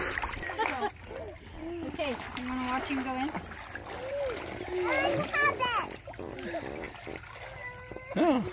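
Water splashes and sloshes in a swimming pool as someone goes in with a fish pool toy. Intermittent splashing and dribbling run under excited children's voices and an adult talking.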